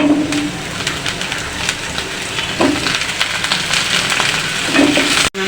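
Potatoes and eggplant fry loudly in mustard oil with chopped onion, a steady close sizzle with stirring scrapes running throughout, ending in a brief thump.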